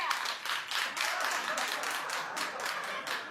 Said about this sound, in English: clap if you'd wear this in the street